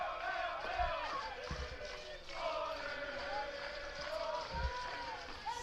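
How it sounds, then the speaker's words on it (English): A soccer crowd sings a sustained, wavering Ole chant from the stands at a DIII women's soccer conference championship between Transylvania and Hanover. The chant is moderately distant, with a commentator talking over it. "Ole chant, the soccer go-to, raining down."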